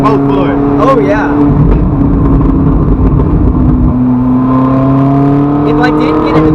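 An all-wheel-drive sports car accelerates, its engine drone heard from inside the cabin as a steady hum that climbs in pitch during the second half, with people talking over it.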